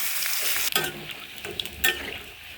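Onions drop into a pan of frying bata and nola fish, and the steady oil sizzle jumps into louder crackling bursts, with a couple of spoon or pan clinks as it keeps hissing.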